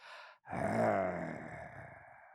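A person's voice imitates the Hulk with a long, deep, rough growl that swells and then fades. A brief breathy sound comes just before it.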